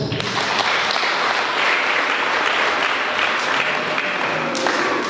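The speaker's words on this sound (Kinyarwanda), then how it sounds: "Ubwo se bamuhaye amashyi." Sustained applause from an audience at a community gathering, dense steady clapping throughout with a faint background voice.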